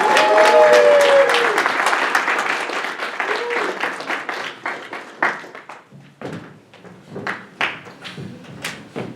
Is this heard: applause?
yes